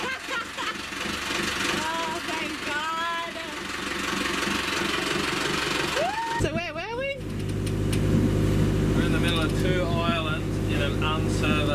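A sailboat's outboard motor turns over and catches partway through, then settles into a loud, steady running drone with a chugging low rumble. It follows a stretch of quieter background noise, with faint voices over it.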